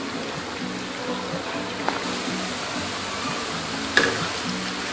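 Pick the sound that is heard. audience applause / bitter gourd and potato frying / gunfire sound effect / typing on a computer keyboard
bitter gourd and potato frying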